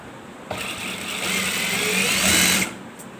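A sewing machine runs a short stitching burst on a ladies' belt-style shalwar, starting abruptly and holding a steady whirring buzz for about two seconds before stopping, close and fairly loud with no voices.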